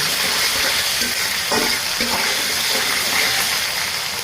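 Ginger, garlic and cumin paste frying in hot oil for a home-style beef white liver bhuna, a steady broadband sizzle with a few soft stirring scrapes, close and continuous throughout, no talking.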